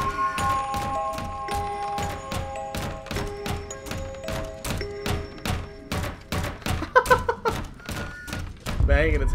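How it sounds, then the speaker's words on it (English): A creature in the horror game Layers of Fear bangs its head against a wall in a steady run of heavy thuds, about two per second, loud and close, over a droning tonal music bed, ending in a louder crashing burst. "Banging its head against the wall."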